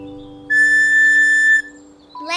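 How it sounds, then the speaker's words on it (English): A steady whistle tooted once to mark a marching beat, a single bright sustained tone lasting about a second over a soft background hum, cut off cleanly, followed by a brief rustle. "I'll toot the beat on my whistle for everyone to hear."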